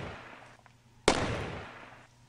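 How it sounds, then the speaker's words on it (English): A single loud, sharp gunshot in Brothers in Arms: Road to Hill 30 rings out and then decays slowly, after a quiet stretch of low background noise. "Why are you guys shooting at me?"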